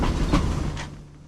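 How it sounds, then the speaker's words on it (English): A Tunisian SNCFT passenger train of first-class, second-class and generator coaches rolls on the rails with a steady low rumble, a couple of faint wheel clacks heard close by before the sound thins out. "The train finally reversed in around 30 minutes after it should have departed."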